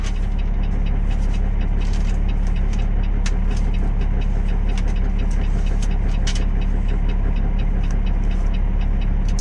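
Truck engines idle at a busy truck stop, a constant low diesel drone and hum with faint clatter and ticks over the top.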